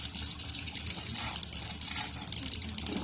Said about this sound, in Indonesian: Selanjutnya kita menghidupkan keran.